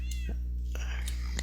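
A cat meowing inside a survival video game, two or three short mews rising over a steady low hum, with someone talking quietly alongside.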